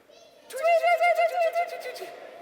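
A crowd of audience members imitates birds tweeting, a chorus of warbling, cooing whistles rising suddenly after a quiet start, with a wavering pitch that pulses for about a second before fading into scattered breathy chirps.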